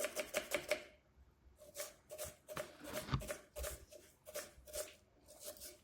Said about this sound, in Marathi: तर मला जितके बारीक चिरते तितके बारीक चिरून घ्यायचे